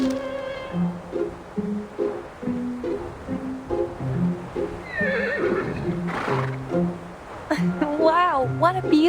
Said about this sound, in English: Sounds like a horse to me.